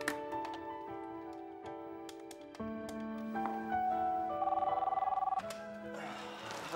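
A telephone rings in a series of bright, repeated electronic bell trills that shift in pitch, clear and fairly close, with no voices over it.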